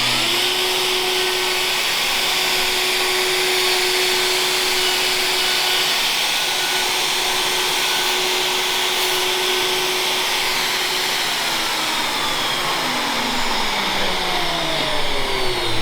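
A Festool router cuts a template pass with vacuum dust extraction running. A loud, steady high-pitched whine with an airy roar persists throughout, and its pitch dips slightly near the end.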